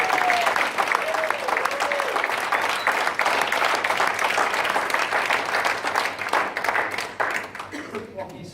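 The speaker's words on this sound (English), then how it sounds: "Can we have another round of applause, please, for Andy?" A comedy-club audience at an open-mic night applauds. The clapping is dense and sustained and fills the room for several seconds. Toward the end it thins out and fades.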